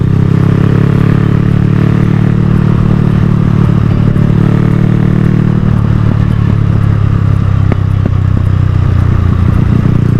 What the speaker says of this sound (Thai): ขับมันเหมือนเดิมเพิ่มเติมคือมีเสียงยิง